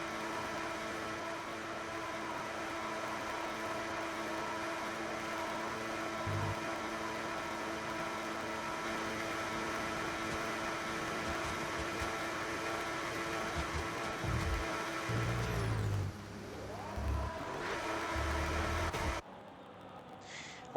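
Racing car engine in a video game Japanese Grand Prix, running with a steady droning tone and irregular low thumps late on, then cutting off abruptly near the end.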